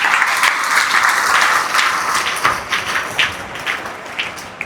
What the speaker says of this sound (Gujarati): તાળી પાડો જોરદાર.